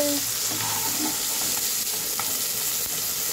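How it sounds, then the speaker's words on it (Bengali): Fish frying in hot oil in a pan, a dense, even crackling sizzle that stays loud and close for the whole stretch, with a faint low hum beneath. "দেখুন আমার মাছগুলো একদম ভাজা হয়ে গেছে।"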